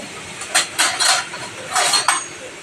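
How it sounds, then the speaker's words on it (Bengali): Dishes being washed in a kitchen sink basin while cooking, with several bright clinks and clatters of utensils and pots in irregular bursts, fairly close, no talk. "রান্না করতে করতে বেসিনে কিছু বাসন ছিল, ওগুলো ধুয়ে নিলাম।"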